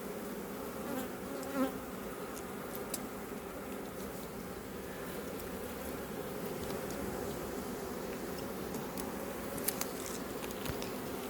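A steady, dense buzzing of many honey bees around a hive, continuous and fairly close, with occasional louder individual bees flying past.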